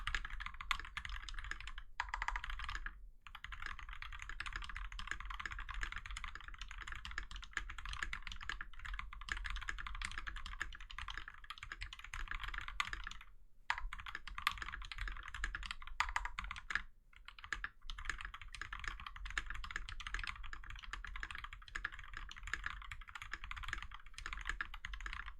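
Typing on an FL-CMMK MK870 keyboard fitted with ABS doubleshot keycaps, a steady stream of close, crisp clacking keystrokes with a few brief pauses.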